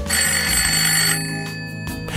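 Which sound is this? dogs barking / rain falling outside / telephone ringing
telephone ringing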